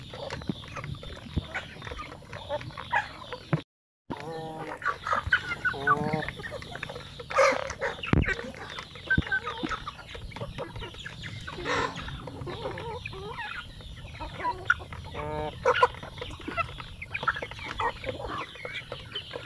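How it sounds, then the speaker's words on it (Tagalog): Several chickens cluck and squawk nearby at a chicken farm during rain, with a continuous farmyard bustle and a brief moment of silence early on. "Kaya maaga tayo magpakain sa ating mga manok."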